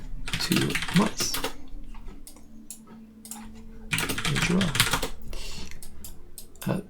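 Quick bursts of typing on a computer keyboard, close and fairly crisp, come in two clusters separated by a quieter stretch, with a voice speaking between them.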